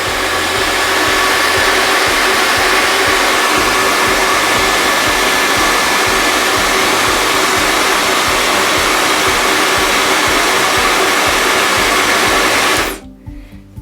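A Bopcal H hair dryer blows at full speed, a loud, steady whooshing hum that holds unchanged for about thirteen seconds before switching off sharply.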